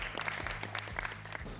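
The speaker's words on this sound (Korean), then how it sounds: "마지막 다시 한번 박수 한번 쳐줄까요?" A small studio audience applauds after a K-pop group's live vocal evaluation, a quick burst of clapping that sounds somewhat distant and soft throughout.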